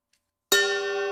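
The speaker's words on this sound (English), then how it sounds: "While the bells play, we will recite the 37 practices of a Bodhisattva's way of life." Bells ring out at the start of a Buddhist Sangha gathering ahead of a recitation of the 37 practices of a Bodhisattva, one bright sustained strike after a short silence, its tone ringing on steadily without fading.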